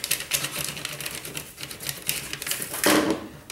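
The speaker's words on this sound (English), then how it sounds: "So fold it over and then just run your scissors along it to flatten it down." Scissor finger rings are run along folded foil to flatten it, giving close, rapid crinkling and scraping strokes with a louder rough rasp near the end.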